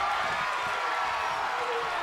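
Fired-up crowd at a WWE 2K25 virtual wrestling match: steady, loud arena roar with scattered cheers and claps, continuous throughout.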